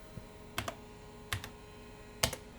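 Keystrokes on the keyboard of a Commodore PC10-II computer, three separate clicky presses spaced about a second apart, close and fairly quiet with no talk.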